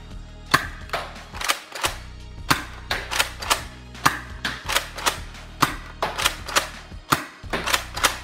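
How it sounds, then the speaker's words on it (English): A Nerf Raptor Strike blaster fires Elite darts in a rapid series of sharp snapping shots, each with a brief mechanical clack, loud and close, with short gaps between some bursts. "We're gonna fire normal Elite darts"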